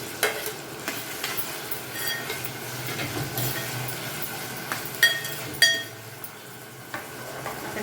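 Mustard seeds and spices for an avarekalu sambar crackle and sizzle steadily in hot oil in a pan, with a couple of sharper clinks of a utensil against the pan near the end and no talking.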